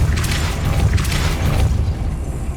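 A Depulso spell blast in Hogwarts Legacy, a deep rumbling boom with layered bursts that hold for about two seconds before easing off.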